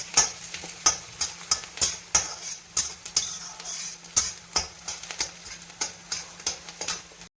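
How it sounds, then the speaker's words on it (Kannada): Chopped onions fry in hot oil with chillies for a spicy traditional dry fish curry, a steady close sizzle broken by rhythmic scraping stir strokes roughly every half second. "ನೆಕ್ಸ್ಟ್ ಈರುಳ್ಳಿ ಸೇರಿಸಿ, ಚೆನ್ನಾಗಿ ಫ್ರೈ ಮಾಡಿ"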